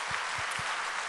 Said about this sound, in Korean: 한번 자리에서 잠깐 일어나 주시면 우리 박수로 축복하겠습니다.